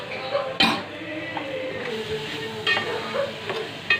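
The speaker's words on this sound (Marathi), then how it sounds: "मी मसूरची डाळ टाकते, त्याच्यामध्ये मसूरची डाळ मिक्स करते" Masoor dal stirred into goli bhaji frying in a pan: a steady sizzle runs under scattered spoon scrapes and soft clinks, with one sharper knock near the start, close and moderate in level.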